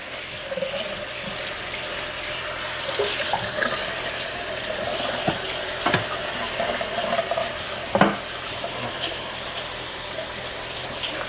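Hot water runs steadily from a tap into a kitchen sink while a bowl is scrubbed clean, a continuous hiss with a few clinks and knocks and no speech.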